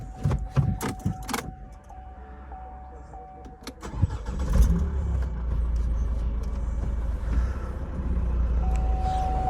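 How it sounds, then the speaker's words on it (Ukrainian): Keys jingle and click, then a diesel car engine cranks over and settles into a steady, close, low idling rumble. "Вам покажу, як автомобіль заводиться, як працює двигун"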